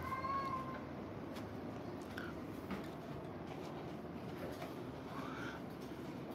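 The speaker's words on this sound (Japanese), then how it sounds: "全部の猫ちゃん今から紹介していくんで" A cat meowing a few times, faint and somewhat distant over a steady low background rumble.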